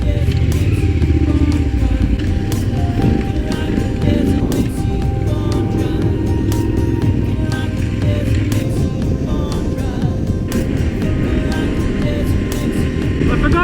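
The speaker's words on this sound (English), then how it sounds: "Every ride has to start with a wheelie" An adventure motorcycle's engine drones loud and steady as the rider pulls a wheelie, with heavy wind rush and rumble throughout and no distinct pauses.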